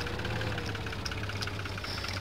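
A FIAT 540 tractor engine in Farming Simulator 17 idles with a steady low knocking rumble and faint vibration, continuous and fairly quiet throughout.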